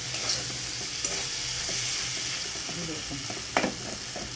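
Spice paste and boiled potatoes sizzle steadily in a pan, with a soft rustle of stirring and a couple of sharp utensil clacks near the end. A single brief word is spoken over the frying.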